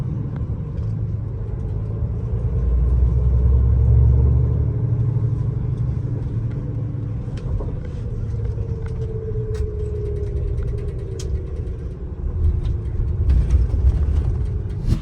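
A London double-decker bus engine rumbles low and steady beneath a passenger riding upstairs, with a constant droning hum, faint rattles and passing traffic noise throughout, no voices.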